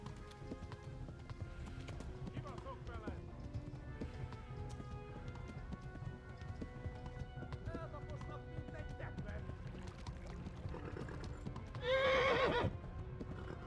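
Rapid hoofbeats of a galloping horse in the video game Kingdom Come: Deliverance run steadily throughout, with a loud horse whinny near the end and a voice talking over it.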